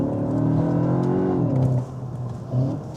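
A 2025 Cupra Terramar's engine revs hard under acceleration, a close, steady mid-pitched drone that climbs in pitch, dips briefly near the end and swells again, partly augmented by synthetic engine sound, with no talking.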